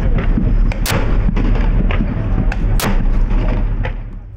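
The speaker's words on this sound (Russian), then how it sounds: "Приветственный выстрел звучит с корабля «Полтава»." Several sharp booms ring out over a rumbling, noisy outdoor background, cannon shots fired in salute from the ship Poltava, with a crowd murmuring faintly.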